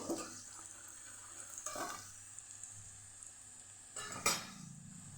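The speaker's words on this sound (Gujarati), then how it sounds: "પછી આપણે લીલા ધાણાની જે દાંડલી લીધેલી એ ઉમેરી દેશું અહીંયા આપણે સાતળવામાં ઉમેરીએ છીએ" Green coriander stems sauté in hot oil in a pan for a Kathiyawadi cabbage-potato dish, giving a soft, steady sizzle up close. A couple of brief stirring scrapes break through, with the sharpest one near the end.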